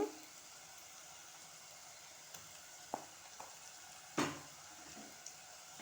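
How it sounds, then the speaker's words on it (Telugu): Ginger garlic paste frying in oil sizzles faintly and steadily, with a few soft clinks and scrapes of stirring in the pan. "ఇది నూనెలో అల్లం వెల్లుల్లి గోలేదాకా కలుపుకుంటూనే ఉండాలన్నమాట"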